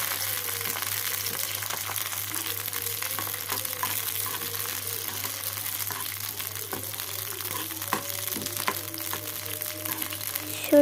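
Tomatoes frying on a low flame for tomato chutney, a soft steady sizzle with occasional light stirring clicks, close and even throughout.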